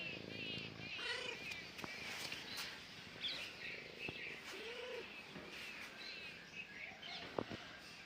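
A cat purrs softly and steadily in a quiet room, with faint bird chirps and a few small clicks in the background.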